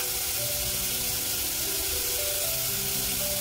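Onion, green chili, asafoetida and turmeric roast in a pan for broccoli sabji, giving off a steady, dense sizzling hiss close by with no break.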